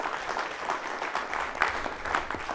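Moderate, somewhat distant applause from an audience at a pitch contest, a steady wash of clapping that carries evenly through the short stretch without talk over it.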